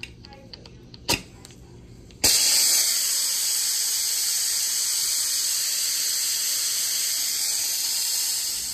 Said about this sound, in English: it's gonna release a lot of steam and be very loud